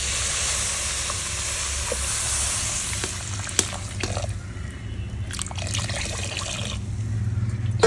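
Water is poured into mutton and cassava biryani masala in a hot pan, producing a steady, loud sizzle with bubbling, stirring scrapes and a few sharper clicks throughout, with no talking.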